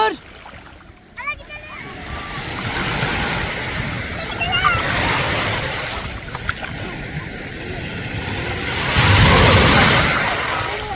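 Rough sea waves splash and surge against the shore at Bağırganlı, a steady washing roar that swells loudly near the end while voices talk over it.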